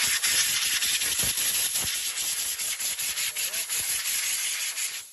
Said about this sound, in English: Just give it a blow with a compressor, the air lance.